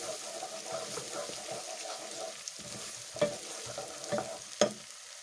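Chopped onions fry in a pan for coconut beans with a steady sizzle and crackle, broken by a few louder stirring scrapes toward the end; no one speaks.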